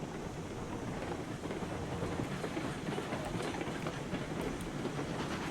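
A locomotive in RailRoads Online runs along the rails, a steady, fairly quiet rumble with faint clickety-clack of wheels and some wind-like noise throughout.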